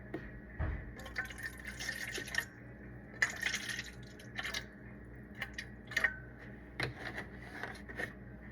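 Milk and water are poured into a container for a cranberry orange sunflower sourdough, with gurgling, dripping liquid and soft splashes heard close up in uneven bursts, no talk.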